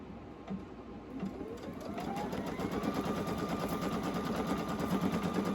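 Embroidery machine stitching the outer border of a sublimation patch, a steady rapid needle chatter running continuously and fairly close, building slightly in loudness, with no talk.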